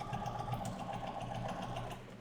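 Sewing machine stitching quilt pieces, a faint, steady rapid whir with an even mechanical pulse running throughout, close by and heard alone.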